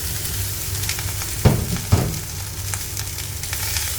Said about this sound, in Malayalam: ഇനി നമ്മൾ ചോറ് ഇതിനകത്തേക്ക് ഇട്ട് കൊടുക്കാം.